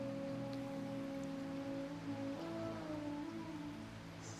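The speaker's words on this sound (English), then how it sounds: "We've got sounds of all the different kinds of water right now. We have the beautiful pond, you've got the rain, you've got the ocean" Rain and water ambience from a meditation soundscape of pond, rain and ocean sounds: a steady broadband wash with soft patter throughout, under sustained low droning tones, moderately quiet and continuous.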